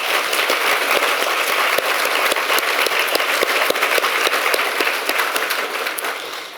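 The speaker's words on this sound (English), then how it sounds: "A round of applause to all of you." Dense, steady applause from an audience at a fiction prize award ceremony, thanking foundation supporters, with crisp individual claps throughout, slowly tapering at the end.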